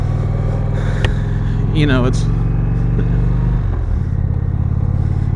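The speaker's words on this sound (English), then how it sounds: "Very powerful bike. Sounds great." A 2020 Indian Springfield motorcycle engine drones steadily and loudly at cruising speed, its low rumble dropping in pitch near the end as revs change, with a short spoken phrase over it.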